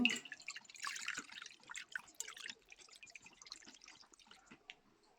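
Sichuan peppercorns in a colander rinsed under running water, a faint close trickle and splashing that thins into scattered drips.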